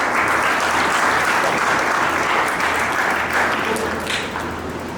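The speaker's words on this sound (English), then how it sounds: "Please have a round of applause for our students." An audience at a school youth parliament event gives a loud, dense round of applause for students, steady and close, tapering slightly toward the end.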